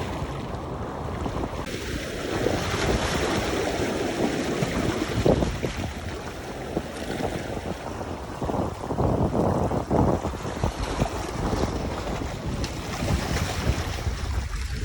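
Ocean waves roll and crash along the Oahu, Hawaii shoreline, a steady loud broadband wash with surging swells, mixed with wind buffeting the microphone throughout.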